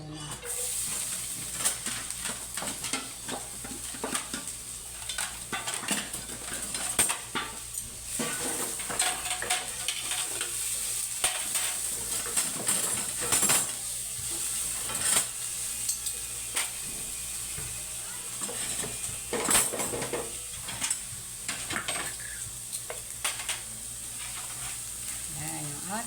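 Onion, garlic and chili sautéing in a pan for pork sisig, a continuous bright sizzle and hiss with frequent scraping stirs and clinks of utensil on pan, close up and sustained throughout.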